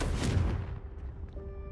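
Confringo fire spell blast in Hogwarts Legacy: one heavy booming explosion up front that decays into a rumbling tail over under two seconds, with faint tonal game sounds lingering afterward.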